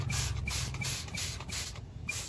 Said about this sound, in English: We'll get the pressure washer out.